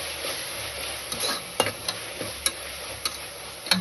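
Tomatoes fry in separated oil in a pan as a spoon stirs quickly, with gentle sizzling under a series of sharp scrapes and taps against the pan.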